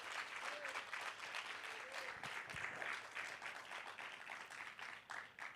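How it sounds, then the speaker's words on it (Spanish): Church congregation applauding together during a Spanish-language service, dense steady clapping that holds for several seconds and thins slightly toward the end. "denle un aplauso fuerte a Dios."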